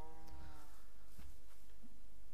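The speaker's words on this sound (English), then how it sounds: "Some cows here, not what I'm looking for" Cows mooing in the Minecraft video game, with a single drawn-out low moo near the start, followed by softer game noises and a faint second call toward the end, with no talking.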